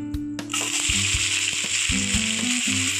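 Onion and potato fry in a little hot refined oil. A bright, loud sizzle swells suddenly and holds steady, broken by a few metallic clinks of a spoon on the pan.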